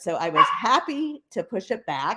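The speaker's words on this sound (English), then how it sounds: "that is a dog yapping in the background" A small dog yaps in the background, several quick barks and whimpering yips mixed under a person's ongoing speech, fairly faint behind the voice.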